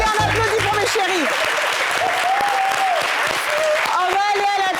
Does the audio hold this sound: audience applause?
yes